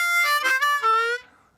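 A blues harmonica riff played with draw bends: a short, reedy phrase of a few notes, the last one bent downward, sounding close and clear before fading away.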